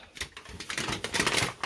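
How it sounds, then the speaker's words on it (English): Crinkling rustle of a towel being pulled away from the foil wrapping an 18-pound prime brisket, a series of short crackling, papery bursts close up with no talk. "So let me separate the towel from the foil."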